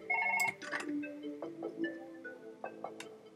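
A telephone rings in the video game Surgeon Simulator: repeated bright electronic ring bursts at moderate volume, steady and close.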